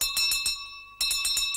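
A different bell with a brighter ringing tone sounds in two bursts of rapid repeated strikes separated by a short pause, close and clear with no talking.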